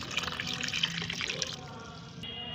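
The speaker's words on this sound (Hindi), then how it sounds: "मैंने 1 भाग ये फर्टिलाइज़र ले लिया है और इसमें 2 भाग सादा पानी मिलाऊंगी।" Plain water is poured into liquid fertilizer at a ratio of two parts water to one, making a steady close splashing and trickling stream that tapers off near the end, with no talking.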